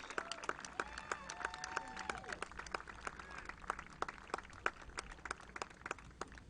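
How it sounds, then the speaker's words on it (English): Scattered, fairly distant clapping from a thin crowd at a high school football game between Cranston West and Bishop Hendricken, honouring senior cheerleaders, with individual claps standing out and voices talking nearby. "Please give a round of applause to our senior cheerleaders."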